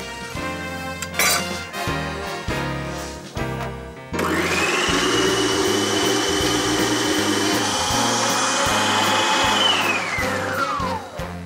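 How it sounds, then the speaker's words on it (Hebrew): A multi-purpose kitchen food processor starts abruptly and juices fresh oranges with a loud, steady motor whir and spinning buzz that runs for several seconds, then winds down. Music plays underneath and before it starts. "יש לי כאן מעבד מזון שיכול גם לחתוך לקוביות, גם להכין בצק. הפעם אני סוחט בעזרתו את המיץ תפוזים שלי"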